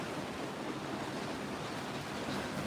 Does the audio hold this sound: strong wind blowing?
yes